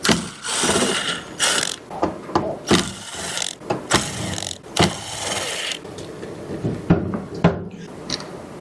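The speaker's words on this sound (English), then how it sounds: "So I'm going to take those screws off." Screws come out of a minisplit AC unit, giving loud, close mechanical ratcheting and whirring bursts in an irregular rhythm, broken by sharp clicks and brief pauses.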